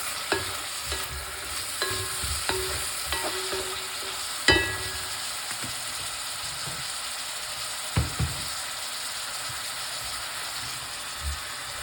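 Food sizzling quietly in a pan while being stirred, with occasional utensil clinks and scrapes against the pan over a steady hiss.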